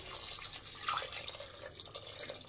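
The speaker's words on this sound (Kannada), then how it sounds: "ನೀರು ಹಾಕ್ಕೊತಾ ಇದ್ದೀನಿ" Water pours into a pressure cooker holding chopped country tomatoes, a soft, quiet splashing and trickling stream heard close with a few brighter drips.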